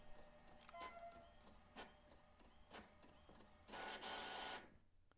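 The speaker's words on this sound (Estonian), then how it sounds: "Okei, nüüd see tuli sealt printerist välja." A printer in The Mortuary Assistant video game runs through its printing cycle: rhythmic mechanical clicks and whirs at roughly one-second intervals, then a louder sustained rush as the page feeds out before stopping, quiet overall with no talk.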